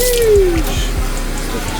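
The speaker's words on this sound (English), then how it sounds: "water is on, we got running water" Water runs from the tap inside an ice cream truck at a street festival, a close, steady splashing stream with low rhythmic thumps beneath and a brief tonal squeak at the start.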